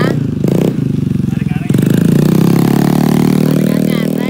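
A Yamaha Mio motor scooter engine being test ridden after a repair shop tune-up. It comes in with choppy short bursts, then settles into a loud, sustained close revving drone.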